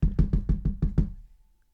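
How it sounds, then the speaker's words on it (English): Seven quick, evenly spaced knocks on a door, loud and close, fading out after the last rap. "I'm pretty sure that was just her knocking, right?"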